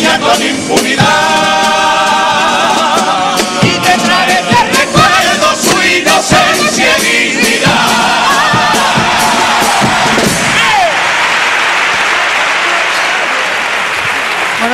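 Loud, dense applause and cheering from a theatre audience after a carnival comparsa's paso doble in a preliminary round, with closing sung notes and instruments under the ovation early on before the clapping carries on alone.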